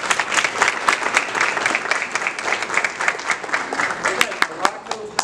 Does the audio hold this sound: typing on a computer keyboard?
no